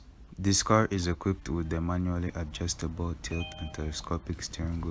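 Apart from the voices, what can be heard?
Kia Sorento car chimes while adjusting steering wheel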